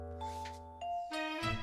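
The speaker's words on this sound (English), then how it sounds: "Ding dong." A two-tone ding-dong doorbell chime in the video game Day of the Tentacle, sounding twice in a row, bright and clear over a low game music drone.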